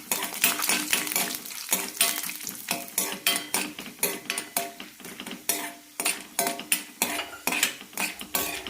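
Chana dal roasts in a pan with a little oil for chutney, with rhythmic scraping stirs of a spoon against the metal over a soft sizzle, close and steady with no talking.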